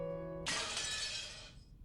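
Glass shatters in the game Umineko, a sudden bright crash that bursts out after a soft tonal hum, with fragments tinkling and fading over about a second, alone and fairly near.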